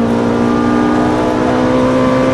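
A Ferrari 458 Italia engine accelerating on the Fontange race circuit, a loud, steady high-revving drone heard from inside the car, with no break in the sound.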